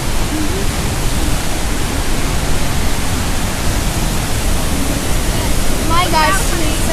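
Vernal Falls waterfall in Yosemite, rushing with a loud, steady broadband roar; a faint voice briefly rises near the end.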